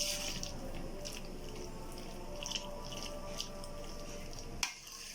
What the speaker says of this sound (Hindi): तो हम इसको अच्छे से मिक्स कर लेंगे।